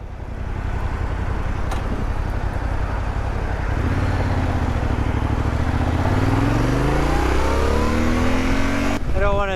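A Yamaha Tenere 700 motorcycle engine drones loudly up close while riding, revving and rising in pitch as it accelerates, with steady wind rush over the whole stretch.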